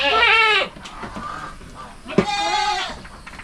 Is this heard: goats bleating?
yes